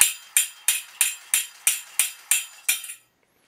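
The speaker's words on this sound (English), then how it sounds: "I'm going to get him smashing his cymbals here." A toy robot monkey bangs its cymbals together in a steady run of about nine bright metallic clashes, roughly three per second, fairly close and with no voices, then stops abruptly.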